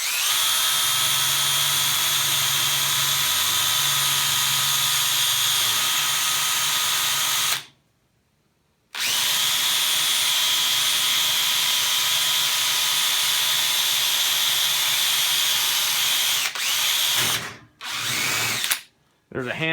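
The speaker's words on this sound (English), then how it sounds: "I'm just gonna hold this little bastard in place while I drill" A power drill whines loudly and steadily through metal for a CNC mill enclosure, cutting out briefly near the middle, then restarting and stopping in short bursts near the end.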